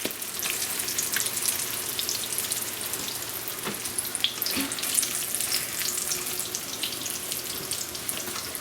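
Eggplant slices for eggplant parmesan fry in a hot oiled pan, a dense, steady crackling sizzle with scattered sharp pops, loud and close throughout, with no voices.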